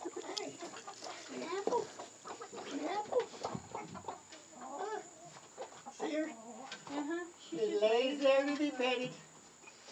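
Chickens cluck and squawk in a backyard coop where rabbits are also kept, a busy run of calls close by with people talking over them.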